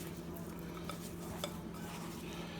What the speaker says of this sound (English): I'm going to mix that up real good.